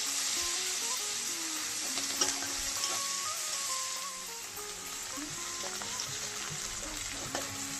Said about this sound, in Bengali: পেঁয়াজ কুচি দিয়ে দিলাম, পেঁয়াজটাকে নাড়িয়ে চেড়ে ভেজে নিচ্ছি।